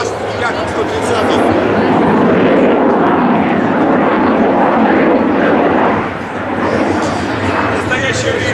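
Yakovlev Yak-130 jet rolling down the runway at the MAKS 2015 airshow, a loud, steady engine roar with crowd noise, under a commentator's voice.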